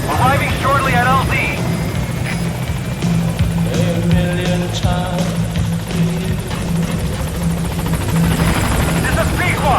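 The Pequod helicopter in Metal Gear Solid V flies in toward a landing zone with a loud, continuous rotor drone and engine whine, while radio voices talk over it.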